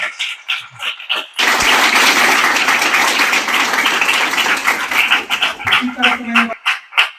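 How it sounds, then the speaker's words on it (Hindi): Gathered group claps for a student who reached IIT, bursting into a dense round of applause after a few scattered claps, holding steady for about five seconds, then breaking back into isolated claps and voices. "आओ भाई, अभिषेक कुमार के लिए ताली बजाइए आप लोग"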